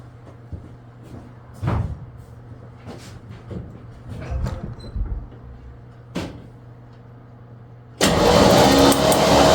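A forgotten 1970s Chevy C10 truck with carburetor trouble, cranking over after 23 years: several separate short starter bursts, then a loud sustained cranking roar over the last couple of seconds, close by.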